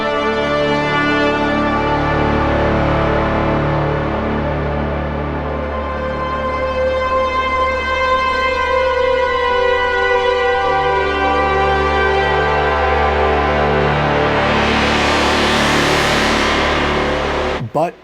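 An Arturia MiniFreak, a six-voice hybrid analog synthesizer, plays a loud, dense, droning evolving patch with shifting tones, ending in a rising swell of noise and an abrupt cutoff.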